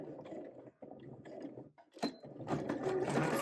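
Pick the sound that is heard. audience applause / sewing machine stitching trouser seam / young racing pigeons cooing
sewing machine stitching trouser seam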